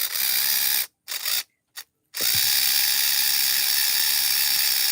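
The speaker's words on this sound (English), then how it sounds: "That's the sound of the Magna Sonic." A Magna Sonic device gives a continuous, loud ratcheting mechanical whir at a car-show auction, cut by two brief silent gaps before it resumes steadily, with no talk.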